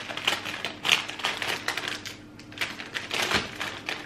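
Crunching on a Crunchy Peanut Cluster snack made with chocolate and peanuts, with crisp, irregular crackling bites close to the mic amid faint background sounds.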